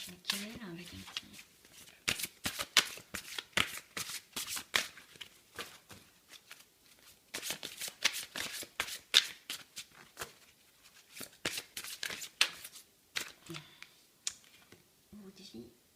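Oracle cards are shuffled in bursts of crisp riffling and flicking, with short pauses between rounds, heard close up alongside occasional speech.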